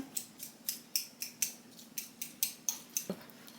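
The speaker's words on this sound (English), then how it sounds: "take my fork and just mush my avocado" A fork mashes ripe avocado for guacamole in a bowl, with a dozen or so quick, evenly spaced squelchy scrapes and taps up close and no talking.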